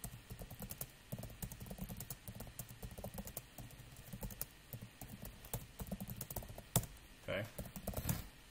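Quiet computer keyboard typing networking commands, a run of light, quick key clicks with brief pauses and a few heavier taps, under a single short spoken word.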